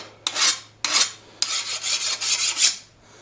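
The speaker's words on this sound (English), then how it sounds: "You hear it, that sound where it's skating that file, and that's hard." A metal file skates and rasps across a hardened steel knife blade in several close, scratchy strokes, first two short separate passes, then a longer run of quick back-and-forth scraping.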